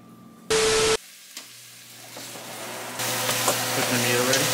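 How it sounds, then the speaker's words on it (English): Garlic and onion fry in a pan for kare kare; after a quieter stretch broken by a brief tonal beep, a broadband sizzle swells up and holds through the final second and a half. "the garlic is already caramelizing"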